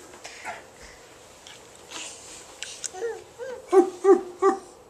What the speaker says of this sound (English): a puppy dog, isn't it?